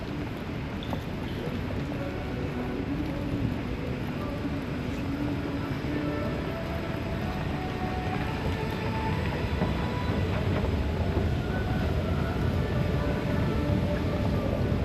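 A Singapore MRT metro train runs steadily near Woodlands with a continuous rumbling roar and faint wheel squeals, loud and close throughout, with no voices.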